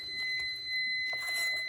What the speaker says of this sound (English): Please excuse my timer.